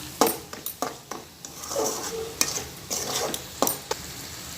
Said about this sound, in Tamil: நல்லா கலந்துக்கலாம்.